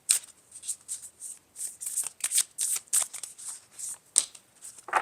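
Oracle cards are shuffled in quick, crisp riffles and slides, a close, dry papery rustle in bursts with short pauses, alone and fairly quiet.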